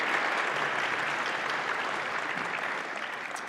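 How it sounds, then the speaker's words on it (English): Audience applause for student jazz bands at a community band concert, a steady dense wash of clapping that holds for the whole stretch and eases slightly at the end. "How about a round of applause again for our students and for our grown-ups,"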